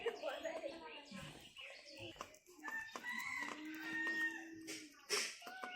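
A backyard hen clucks close by in a series of uneven, drawn-out calls and short clucks, with quieter fowl sounds around it.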